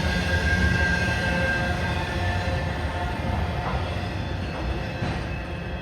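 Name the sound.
loaded taconite freight train passing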